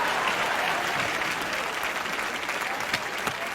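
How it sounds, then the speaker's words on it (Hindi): Steady applause from a studio audience at a televised comedy show, a dense continuous wash of clapping hands that holds at even loudness throughout with no voices over it. "जोरदार तालियां दोनों के लिए।"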